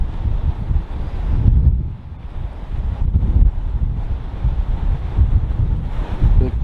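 Strong wind blows at the seashore in Southsea at high tide, buffeting the microphone with a loud, continuous roar that surges and dips, with surf rumbling beneath.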